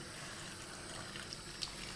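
Water trickles into kibbeh dough as it is mixed, a soft, continuous watery wash with a few faint splashes and no speech.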